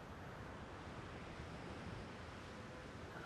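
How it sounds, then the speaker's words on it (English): Ocean waves wash onto a shore in a steady, dense roar of surf with a windy hiss, continuous and fairly distant, with no voices. "I saw an ocean stretching all the way to the horizon"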